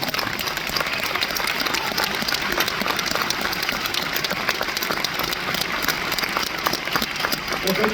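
Steady, dense applause from a town hall audience welcoming Senator Jeff Merkley fills the room, loud and continuous throughout with no pauses.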